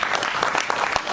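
An audience at a Bollywood musical night gives a brief burst of vigorous clapping, loud and continuous, with distinct hand claps standing out in the wash.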